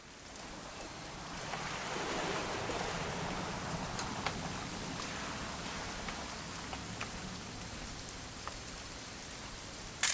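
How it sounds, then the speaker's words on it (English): Steady rain falls from the Remains of Edith Finch game, a dense continuous hiss with scattered drop ticks, even and enveloping throughout with no voices. "It's gonna rain the whole weekend"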